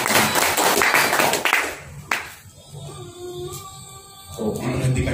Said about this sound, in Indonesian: Tepuk tangan dulu yang baik.